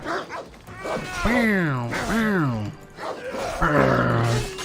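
A dog in Assassin's Creed Odyssey gives loud, close, drawn-out growling yelps and whines in several bursts, with a player's voice mixed in.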